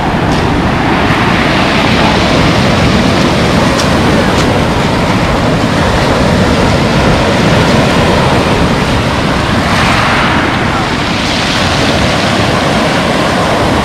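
Rough sea surf breaking on a pebble beach at Lazarevskoye, a loud continuous roar and wash with heavy wind buffeting the microphone, swelling in a few louder surges, no voices.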